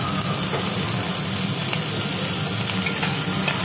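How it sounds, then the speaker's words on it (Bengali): Onions and drumstick stalks fry in a pan, giving a steady, close sizzle with faint crackles and light stirring throughout, and no talking. "পেঁয়াজগুলো একটু ভাজি ভাজি হয়েছে, এরপরে পড়লো সজনের ডাঁটা"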